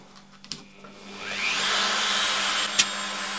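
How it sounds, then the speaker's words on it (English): A rotary grinder bites into a Kylo Ren helmet prop, rising from a low whir to a sustained, loud high-pitched grinding whine, with a couple of sharp knocks. "now we're going to grind away the rest"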